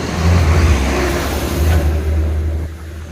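A big truck's engine rumbles loud and close, revving steadily as it drives past, with a deep continuous roar that eases slightly near the end; no one speaks.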